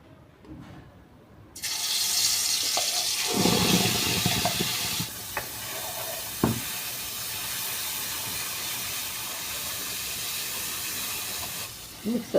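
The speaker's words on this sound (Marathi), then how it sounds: "मिक्सरचं भांडं धुवून पाणी टाकून घेते." Water poured from a rinsed mixer jar into a hot kadhai of green-chilli masala for a fish curry bursts into a loud hissing sizzle, then settles into a steady simmering hiss with a few faint clinks.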